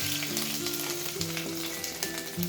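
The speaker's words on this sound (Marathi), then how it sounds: "जिरं मोहरी थोडेसे लसूण आणि आलं मी बारीक चॉप करून घेतला आहे ते ॲड करू" Cumin, mustard seeds, chopped garlic and ginger hit hot oil for a cabbage Manchurian, giving a continuous close crackling sizzle with small pops and no voices.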